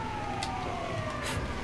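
A faint police siren wails steadily in the distance, its tone gliding slowly downward, with a couple of short noise bursts.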